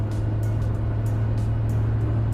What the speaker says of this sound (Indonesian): Tinggal injek gas sampai rata lantai, sampai sepol-polnya.